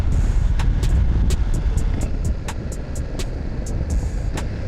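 BMW F900GS motorcycle ridden at speed, a steady loud rumble of engine and wind with repeated sharp high clicks or ticks spaced through it, no talk.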